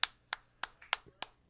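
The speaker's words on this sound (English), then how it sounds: "clap it up, boys" Six sharp hand claps fall in a steady, even rhythm, each crisp and close, with short quiet gaps between them.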